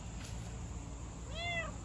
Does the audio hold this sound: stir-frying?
no